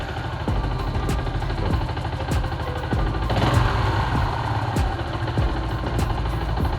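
A Yamaha New Jupiter MX motorcycle engine idles steadily at about 1500-1600 rpm, a continuous close mechanical putter with regular faint ticks, with no voices.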